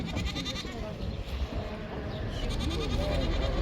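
Young goat kids bleat at a crowded livestock market in Kyzylorda, wavering cries rising over a dense background of murmuring crowd and shuffling animals.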